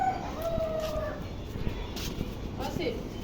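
Roosters and hens kept at a home where they lay eggs crow and cluck faintly in the background, a short drawn-out crow standing out early, while people talk over them.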